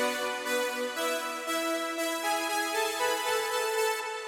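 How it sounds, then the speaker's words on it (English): A bright sustained synth lead built in the Serum software synth for a Last of Us epic trailer theme holds long tones that swell in a slow pulsing rhythm, alone and fairly quiet, with no talking. "So I just recreated the lead sound here with Serum."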